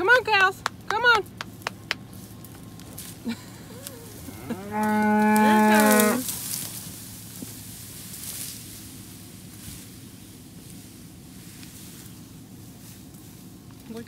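A single long, loud cow moo rises partway through on a farm during hay hauling, with a few short animal calls and outdoor noise around it.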